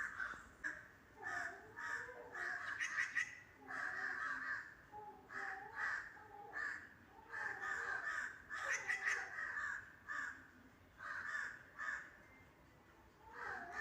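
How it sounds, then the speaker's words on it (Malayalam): A crow caws over and over near a house in a residential neighbourhood, loud bursts repeating in an irregular rhythm with no talking. "കാക്ക ഇരുന്ന് കരയുന്നുണ്ട്"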